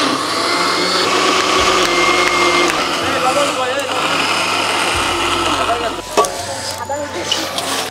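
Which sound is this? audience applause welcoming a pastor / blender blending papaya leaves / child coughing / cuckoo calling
blender blending papaya leaves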